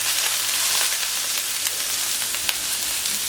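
Eggplant and other vegetables for a Catalan-style escalivada cook in a pan with a steady, bright sizzle and hiss. A few soft clicks and spatters sit on top, and no voice is heard.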